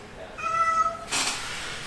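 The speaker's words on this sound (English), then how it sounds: "my cat is literally freaking out in the background" A cat gives one drawn-out meow, close by, followed by a burst of rustling noise.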